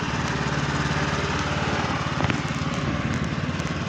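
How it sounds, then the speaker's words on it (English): A riding lawn mower being driven, its small engine buzzing in a steady, rough drone with a slight rhythmic pulse, close and loud throughout, with no voices. "This is actually my brother driving the lawnmower."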